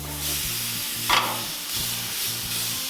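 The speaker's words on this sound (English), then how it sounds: "we're gonna grill this steak" A steak sizzles on a hot Monument Grill, being cooked for steak fajitas, giving a steady close hiss and crackle over a low, pulsing hum, with one brief sharper spike.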